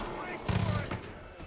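Gunfire from the video game Far Cry 5, a short burst of rapid shots fairly loud over background game ambience.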